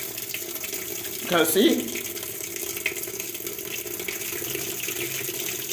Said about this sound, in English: So I've turned the tap on.